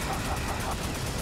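Gunfire from the 2012 Twisted Metal vehicular combat video game, a dense, continuous burst of shots filling the whole short stretch at steady loudness with no talk over it.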